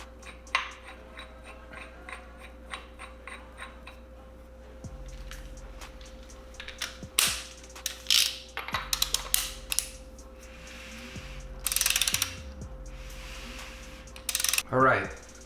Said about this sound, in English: Now we're going to go ahead and rotate the motor a couple times just to verify that we don't have any problems.